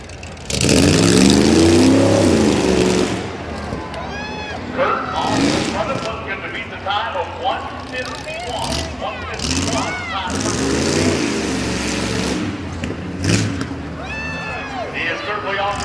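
A rough truck engine revs hard at a county fairgrounds race, loud roaring bursts that rise and fall as it drives, with an announcer's amplified voice talking over the engine noise.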